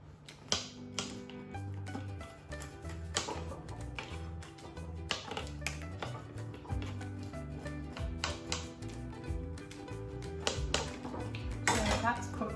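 A pizza cutter slicing through a homemade pizza on a pan, giving steady repeated clinks, scrapes and taps close by, with talk mixed in.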